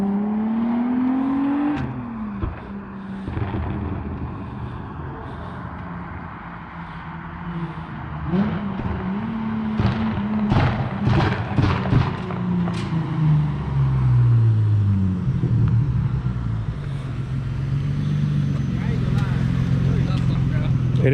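A lowered drift car fitted with blast pipe exhaust drives on a street at night, its engine droning and rising in pitch as it revs and pulls away, with people talking over it.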